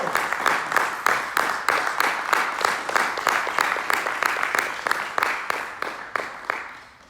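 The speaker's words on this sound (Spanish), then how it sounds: "Denle fuerte este aplauso al Señor." Congregation at a Sunday church service claps in a strong, steady rhythm, sharp beats repeating about twice a second and fading out at the end.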